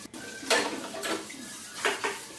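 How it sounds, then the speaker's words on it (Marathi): Dishes, pots and utensils clatter while being washed in a home kitchen, several separate clinking bursts of metal vessels knocking together, fairly close but modest in level, with no talking. "तर भांडी अगोदर सगळी धुवून घेतली."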